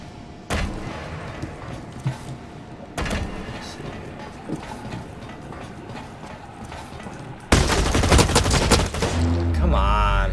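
Gunfire in the online shooter Blacklight: Retribution comes as repeated bursts and rapid shots mixed with game effects, loud and dense throughout, louder near the end.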